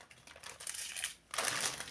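A small plastic sachet of diamond painting beads crinkles in short, close, quiet bursts, with a louder rustle near the end.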